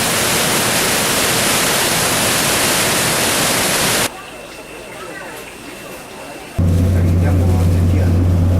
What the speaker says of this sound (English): Shifen Falls, one of the most famous waterfalls in Taiwan